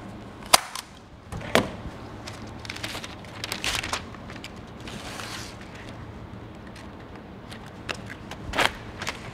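A staple gun drives staples into a fiberglass duct transition board, several sharp, loud snapping shots spaced irregularly, with creaks and handling noise between them, close up and without speech.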